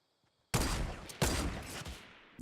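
Two loud, booming rifle shots from a bolt-action sniper in Fortnite, each a sharp blast trailing into a rumbling decay, with a fainter crack at the end; no talk.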